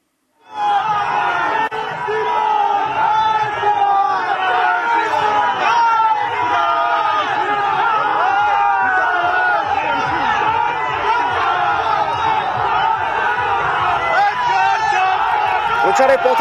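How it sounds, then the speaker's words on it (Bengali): Rival BJP and TMC election rally processions in a Bengal street chant slogans, a loud, dense crowd roar of voices shouting over each other continuously and up close. "সেই সময়ের ছবি যখন তৃণমূলেরও প্রচার চলছিল এবং মুখোমুখি যখন প্রচার দুই মিছিল চলে আসে"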